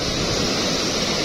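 Volcanic lahar mudflow from Semeru rushes beneath the Limpas bridge in Lumajang, a loud, steady broadband roar of churning water and debris filling the whole span with no letup and no voices.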